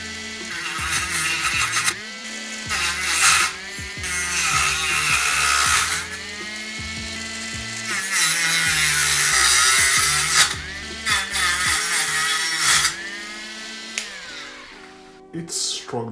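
A Dremel SC 544 cutting disc bites into dense hardwood with a high whining grind that rises and bogs as it struggles through the core, loud and near, with short pauses between passes and someone talking over it.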